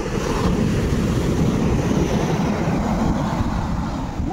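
Sea waves wash steadily onto a beach where shells are being gathered, a loud continuous rush of surf with wind buffeting the microphone and no pause in the roar.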